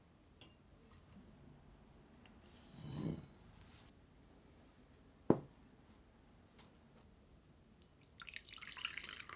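Liquid drips through a paper towel set in a sieve while straining, giving a few soft, scattered drips and small splashes in a quiet kitchen, with a brief sharp tick midway.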